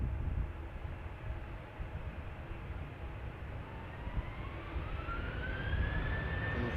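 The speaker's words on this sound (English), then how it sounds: "And Transavia 737 is already taking off." A Transavia Boeing 737 takes off from runway 36L at Amsterdam Schiphol, a broad distant jet roar that swells gradually with a rising engine whine, heard alone.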